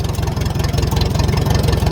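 An antique farm tractor idles nearby with a steady, loud low-pitched chugging pulse that holds an even rhythm throughout.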